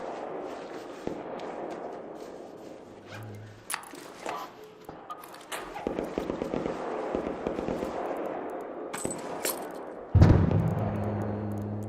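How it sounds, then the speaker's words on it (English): A gas grenade goes off during a match of the video game Arc Raiders amid a steady bed of crackling, popping gunfire and scattered impacts, ending in a louder hissing burst near the close, with no speech over it. "Gas nade."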